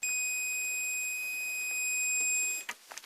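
A steady high-pitched electronic meter beep during a test of a BLDC motor from a ventilation unit holds for over two seconds, then stops, followed by a few faint clicks and taps nearby.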